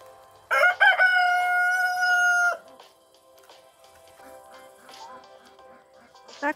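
A village rooster crows once, loud and close, a single drawn-out call lasting about two seconds, followed by quiet farmyard rustling and faint clucking.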